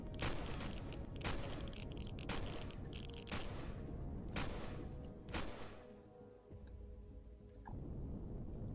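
Light machine gun fire in the space survival game Empyrion: Galactic Survival comes as about eight sharp, evenly spaced reports over a low rumbling background, then stops and leaves a quieter hum.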